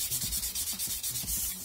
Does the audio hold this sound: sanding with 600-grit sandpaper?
yes